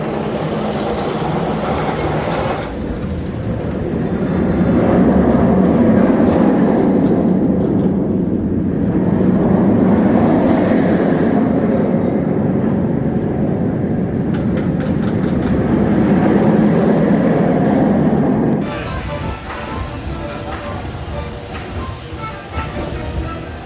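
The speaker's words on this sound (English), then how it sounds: "just had a chance to do Firebird, and I far prefer it with the floorless trains as opposed to the stand-up trains" Firebird, a floorless steel roller coaster converted from a stand-up coaster at Six Flags America, roars loudly along its track in a sustained rumble with rushing wind, building and fading over about twenty seconds.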